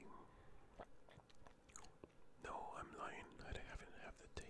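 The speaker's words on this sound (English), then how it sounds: "I'll just eat it again." A coin-shaped candy is bitten and chewed close to the microphone, giving soft crunching and wet mouth sounds under quiet whispering.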